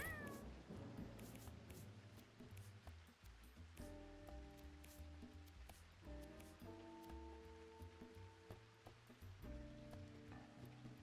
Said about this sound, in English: It's our 5 strength cat.